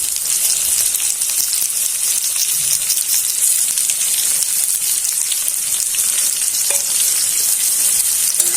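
Marinated fish hits hot oil with already fried onions in a home kitchen pan for a Bengali coconut fish chorchori, giving a loud, continuous sizzle and crackle that runs steadily throughout without anyone speaking.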